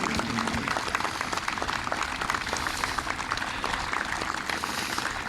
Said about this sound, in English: Please give these American heroes a well-deserved round of applause